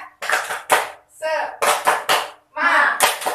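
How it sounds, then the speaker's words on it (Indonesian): A group of schoolchildren in a classroom claps a rhythmic 'tepuk semangat' cheer, with short bursts of claps alternating with shouted chanting voices. "Ayo sama-sama tepuk semangat."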